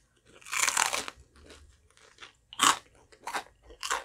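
Several crisp, loud crunching bites and chews of crunchy pizza crust, spaced irregularly, with quiet pauses between them.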